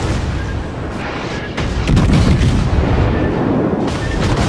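Secondary naval guns fire repeatedly in the warship battle game World of Warships, a dense loud rumble of booming shots and thuds overlapping throughout.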